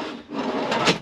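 A wooden drawer on soft-close slides in a van kitchen, installed on a slope, slides shut with a steady rubbing rasp lasting about a second, ending in a slightly louder close nearby.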